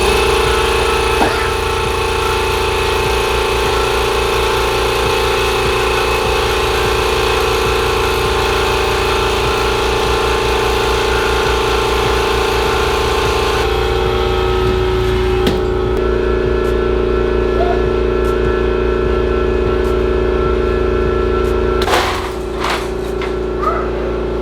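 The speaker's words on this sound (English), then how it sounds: "let's turn on the compressor and let's see how much noise it's gonna make" A Husky air compressor runs close by with a loud, constant motor drone and a steady low hum that barely varies, plus a shift in tone partway through and a few knocks and rattles toward the end.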